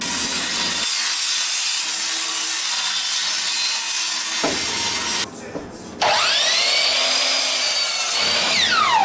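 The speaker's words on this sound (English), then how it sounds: "So I'm going to cut a piece of plywood for the bottom of it" A power saw cutting plywood for the base of a dog bed, loud and close, a continuous harsh buzzing whine that briefly drops off and then resumes at full strength.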